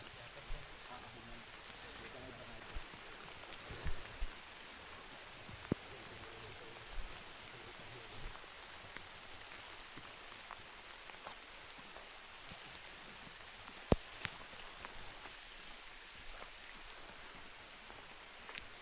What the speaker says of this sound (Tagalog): Umuhos po yung ulan bigla.